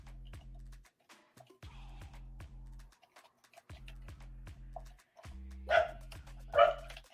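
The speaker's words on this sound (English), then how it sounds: "My dog is barking." A pet dog barks twice near the end, short and fairly faint, over a low pulsing background sound.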